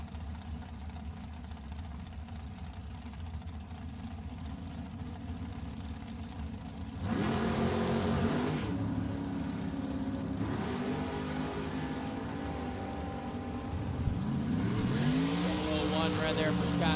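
Drag racing car with a 565 cubic inch Chevrolet engine at an NHRA Lucas Oil drag racing event at Virginia Motorsports Park, idling rough then surging louder in bursts, with an announcer talking over it.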